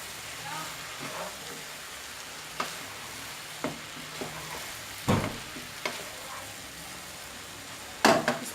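Boiled spaghetti is mixed with vegetables in a pan, giving a soft sizzle under scattered scraping and clinking stirs, with a few louder knocks from the utensil.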